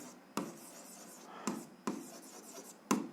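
A seventh-grade algebra exercise is handwritten on paper, with a few scratchy strokes from pen or pencil at irregular intervals. The writing is soft and nearby, and no one speaks.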